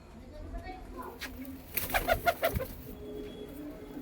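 A red pigeon coos in a short burst of soft, throaty calls near the middle, quiet and close against faint background noise.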